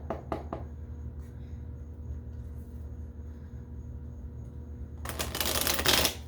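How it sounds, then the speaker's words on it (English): Tarot cards being shuffled: a few quick flicks at the start, a quiet stretch, then a dense riffling shuffle building loudly near the end. "Let's pull a few cards for divine masculine first."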